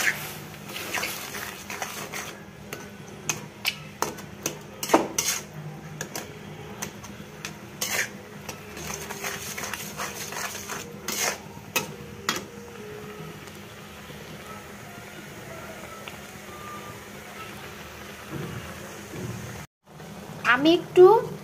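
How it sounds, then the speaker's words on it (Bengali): A wooden dal masher crushes jujubes for pickle in a pot, giving repeated sharp knocks and clatters at an irregular pace, close and fairly loud, with a denser burst of clatter at the very end. "আমি একটি ডাল ঘুটনি দিয়ে এগুলোকে একটু চেপে চেপে ফেটে নিচ্ছি।"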